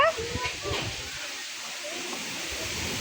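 Steady broadband rush of strong storm wind fills the whole stretch among mango trees, with a person speaking briefly over it at the start.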